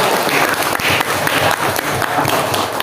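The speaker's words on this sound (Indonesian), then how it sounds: "Tepuk tangan dulu untuk kawan kita" Dense, loud applause from classmates in a classroom during a Quran recitation lesson, a continuous wash of many hands clapping together close by, with no voices over it.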